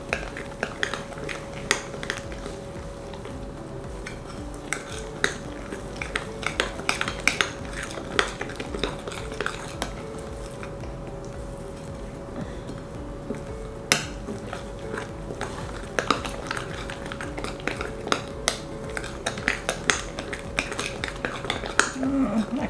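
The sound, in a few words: spoon adding muffin batter, clinking against bowl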